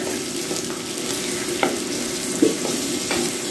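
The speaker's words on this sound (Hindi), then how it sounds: "साथ ही इसमें मैं डालूंगी ये प्याज को और गर्म मसाले को थोड़ा सा फ्राई कर लेते हैं" Chopped onion and garam masala fry in a pan for keema matar, a steady close sizzle with a few soft stirring scrapes and light clinks breaking through, no voices.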